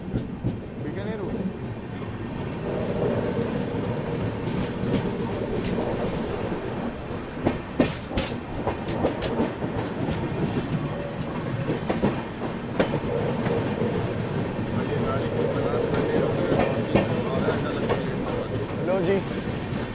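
Aboard the Northeast Express, the train creeps slowly along the rails with continuous rumbling and irregular clickety-clack wheel knocks, steady and close throughout, while people talk faintly in the background.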